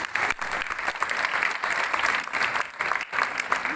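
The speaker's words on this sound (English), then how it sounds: "So kindly applause for them also." Crowd at a school mini marathon event claps vigorously, with loud, full applause that surges and dips briefly before swelling again.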